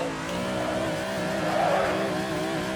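Race car sliding with a sustained tire squeal in the Assetto Corsa racing game, engine droning steadily underneath as the slide holds for a few seconds, loud and close.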